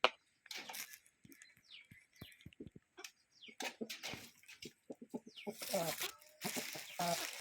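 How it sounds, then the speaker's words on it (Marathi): A pure Aseel rooster pecks at home-grown peanuts, making scattered, sharp clicks and taps at close range, with soft rustling and occasional clucks in between. "त्याला जर शेंगदाणे टाकले तर ते कसा खातो शेंगदाणे बघू शकता"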